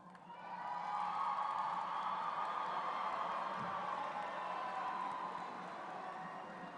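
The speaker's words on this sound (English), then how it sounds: "Graduates, can you please stand and applaud your families?" Graduates at a KIPP DC College Preparatory Class of 2023 graduation ceremony stand and applaud their families, a steady wash of clapping and cheering from a large crowd that swells and then holds.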